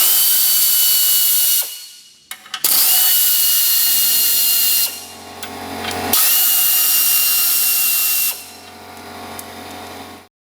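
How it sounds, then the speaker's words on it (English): A power tool spins out the 13 mm control arm bolts on a VW MK4 front suspension, several loud sustained whirring bursts separated by short pauses and clicks, close up and with no talking. "now I'm going to take the 3 13s out from the control arm"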